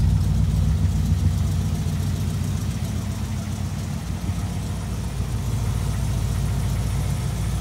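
A 1967 Ford Mustang idles, its engine giving a steady deep rumble with a slightly uneven low throb, close and continuous throughout.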